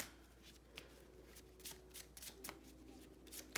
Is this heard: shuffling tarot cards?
yes